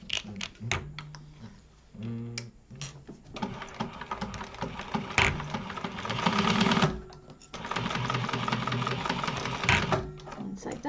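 A sewing machine bastes the sides of a leather-style wallet in quick bursts of stitching, with pauses between runs and some handling noise; close and moderately loud, with a person talking at times.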